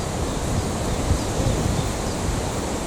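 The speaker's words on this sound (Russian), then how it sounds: "Ну, ветер ледяной, зараза." Icy, stormy spring wind blowing across a lakeside during feeder fishing for crucian carp, heard as a steady, close, roaring rush with no voices.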